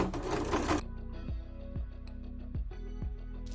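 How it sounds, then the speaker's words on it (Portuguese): A sewing machine runs a continuous seam on fabric pieces for a hexagonal honeycomb organizer, a steady mechanical whir with rhythmic clicking, after a short burst of louder noise at the start and with no talk. "posicionar aqui e ir costurando um atrás do outro"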